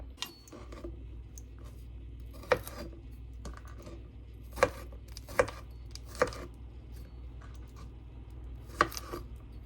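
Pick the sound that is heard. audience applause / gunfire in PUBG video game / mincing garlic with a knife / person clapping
mincing garlic with a knife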